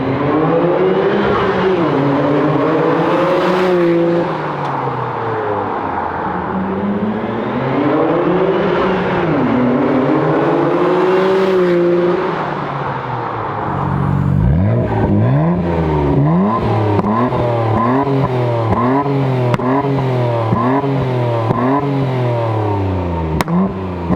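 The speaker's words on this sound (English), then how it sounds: "RB26, hands down, the best motor ever. It sounds so good." A Nissan Skyline R33 GTR with an RB26 engine revs hard and repeatedly, its pitch sweeping up and down in loud, close blips, with rapid sharp revs in the second half.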